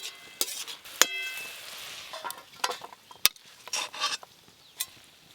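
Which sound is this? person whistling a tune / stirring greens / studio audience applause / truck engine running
stirring greens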